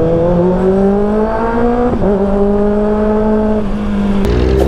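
A 2024 Kawasaki ZX-6R with an Austin Racing exhaust, a copy of a Boris Performance design, revs loud and close. The engine note climbs steadily, dips briefly midway, then drops off at the end.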